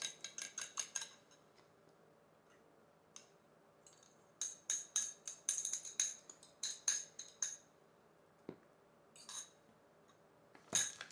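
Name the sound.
beating egg in bowl with utensil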